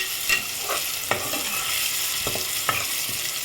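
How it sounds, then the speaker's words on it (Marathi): Ginger garlic paste and tomato are stirred in a hot cooking pan for a black-eyed pea usal, with repeated scraping strokes of a spoon over a constant close sizzle and no talking. "आता आलं लसूण पेस्ट पण आपण छान एकत्र करून घेऊयात"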